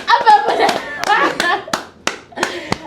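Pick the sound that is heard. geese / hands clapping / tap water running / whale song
hands clapping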